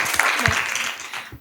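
A brief burst of audience applause at an Indonesian political debate, loud and close, fading out within about a second.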